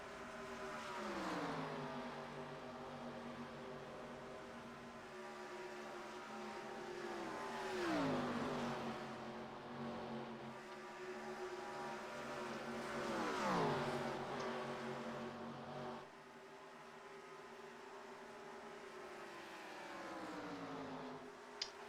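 Stock cars in an iRacing game recreation of the 1987 Daytona 500, engines droning loud and steady with harmonic whine that repeatedly dips and swells as the pack passes, no voices.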